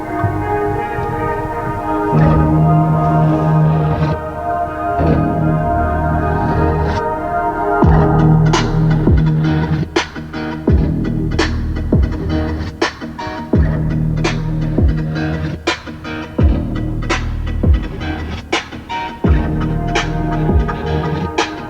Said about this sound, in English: let's go ahead and take a sample of the 10-speaker JBL.